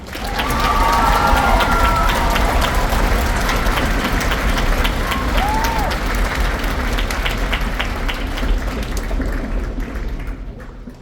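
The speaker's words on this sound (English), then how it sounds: "let's give her one more round of applause." A string academy spring concert audience breaks into loud, sustained applause and some cheering that fills the hall evenly before fading near the end.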